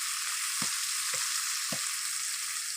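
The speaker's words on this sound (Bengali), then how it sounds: "লতিটা ভালো করে ভেজে নিয়ে নেব" Kochu lati (taro stolons) frying in a pan, giving a steady bright sizzle with a few soft stirring knocks spaced through it, close and alone with no talk.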